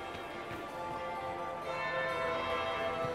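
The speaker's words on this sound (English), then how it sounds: "That would be the second bell." A bell tolls at the Winter Palace in the video game Dragon Age: Inquisition, a sustained ringing tone with rich overtones that swells slightly and holds steady, with no voices.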